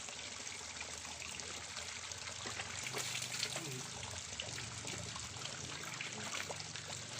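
Mountain spring water runs and trickles continuously from a spring, a steady gurgling flow heard close up at moderate level with no clear speech over it.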